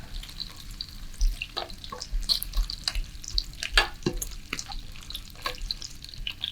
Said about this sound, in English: We're going to caramelize the onions.